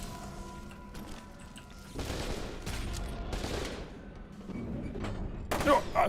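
Turret gunfire in F.E.A.R. 2, with heavy bursts and booms over a rumbling battle bed that grow louder toward the end, while a voice talks over it.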